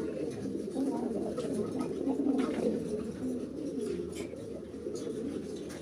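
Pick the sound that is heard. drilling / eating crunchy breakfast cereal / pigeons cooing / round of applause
pigeons cooing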